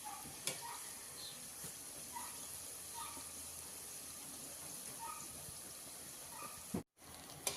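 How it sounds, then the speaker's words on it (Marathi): Karanji, sweet stuffed Maharashtrian pastries, frying in hot oil with a steady, fairly quiet sizzle that runs throughout, broken by a few faint clinks and stirring sounds and a brief dropout near the end. "दोन्ही बाजूने आपण चांगले त्याला तळून घेऊया."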